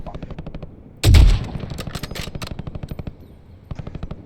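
Bursts of rapid automatic gunfire from Call of Duty Black Ops 6 Warzone, close and loud, with a sharp heavy blast at the start and shots continuing in quick rhythmic volleys.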